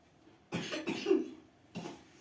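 Two or three short, close coughs, the first pair run together and a final one after a brief pause, in an otherwise quiet room.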